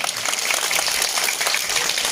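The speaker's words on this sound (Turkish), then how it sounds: "Evet çok güçlü bir alkış istiyoruz size tekrar." An audience at a farmer support event in Şile applauds a farmer, a short, even wash of many hands clapping at moderate distance.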